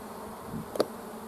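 Honey bees in a three-frame nucleus hive give a faint, steady buzzing hum, with one brief closer buzz as a bee passes near.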